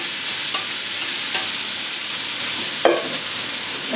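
Chayote purée stirred over low heat in a frying pan to dry it out, a steady, fairly loud sizzling hiss with a few brief scrapes of the spoon.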